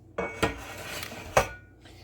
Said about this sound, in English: now what I need to do is pour this into my 2 cake pans